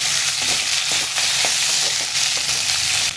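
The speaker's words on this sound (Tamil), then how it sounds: "ஒரு மீடியம் சைஸ் ஒரு 3 தக்காளி, குழம்புக்கு வேணுங்கிற தக்காளி, இதையும் சேர்த்து இது கூட நல்லா வதக்கிக்கணும்." Onions and tomatoes sautéing in a pan for kaara kuzhambu, a loud, dense, continuous sizzle close by with soft scraping stirs every so often and no voices.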